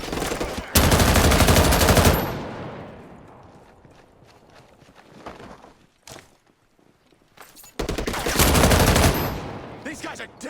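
Automatic small-arms fire laid down as covering fire during a close combat exchange, two loud sustained bursts at the start and end with a quieter stretch of scattered sounds and faint voices between.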